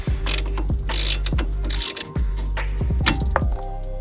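A ratchet wrench works on a BMW E36 being prepared for the track, clicking in loud, rapid bursts of pawl ticks with brief pauses between strokes, close to the microphone.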